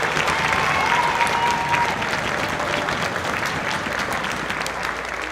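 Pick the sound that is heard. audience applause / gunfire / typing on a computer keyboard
audience applause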